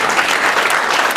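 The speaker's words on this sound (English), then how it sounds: "Another round of applause for her." An audience applauds the mayor of Gary at a public redevelopment partnership event, dense sustained clapping from a crowd filling the room.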